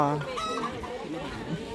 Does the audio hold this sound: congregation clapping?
no